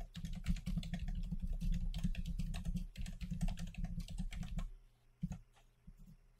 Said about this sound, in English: So just write a quick description.